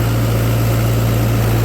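A Mahindra tractor engine runs steadily in a rice paddy field, a loud, continuous low drone with a constant hum and no breaks, close by and with no voices over it.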